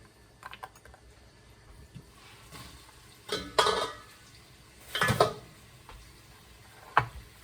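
A knife cuts onion and cabbage into cubes on a board for Western Ukrainian beef borscht, giving a few separate crisp chopping strokes spaced seconds apart, close and moderately loud over a quiet room.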